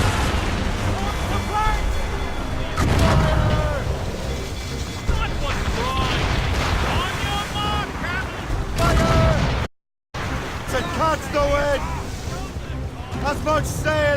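Ship cannons fire in the Assassin's Creed Rogue video game during a naval battle at sea, with booming blasts and rumbling water under shouted voices, then a sudden brief drop to silence before the chaos resumes.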